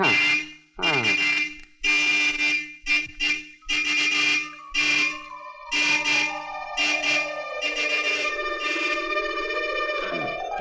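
Loud horn blasts sound in short bursts, then one long sustained honk with a sliding pitch, close and piercing.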